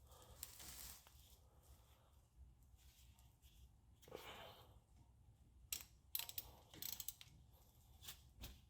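A ratchet with a number 8 socket works on brake caliper bracket screws of a 2015 Mercedes CLA 250 4Matic, producing quiet intermittent clicks and mechanical rattles with a few sharper metallic ticks near the end.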